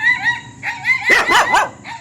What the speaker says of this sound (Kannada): ಅಯ್ಯೋ ನನ್ನೇ ಬೊಗಳ್ತಾ ಇದೆಯಾ